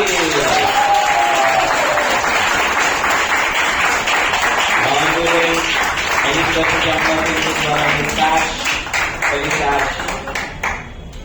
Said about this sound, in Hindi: तालियां बजती रहनी चाहिए जब तक आपको नहीं मिल जाती